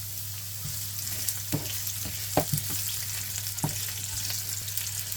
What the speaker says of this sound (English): So I'm adding my onion. Allow it to simmer for some seconds.